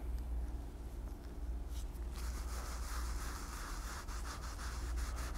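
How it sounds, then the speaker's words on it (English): Tan highlight finish rubbed into leather holster parts by hand, a quiet, continuous, close-up scuffing friction with rhythmic strokes growing more textured partway through, heard under low background hum. "Rub it in well."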